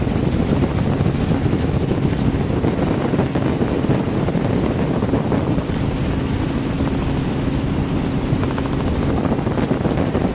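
Steady, loud helicopter rotor and engine drone, continuous throughout with a low throbbing hum and some wind buffeting.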